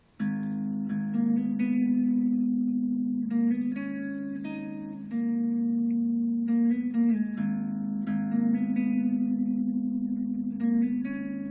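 Guitar playing a melody at full tempo, quicker runs of bright notes over a steady sustained low drone, close and clear with no voices.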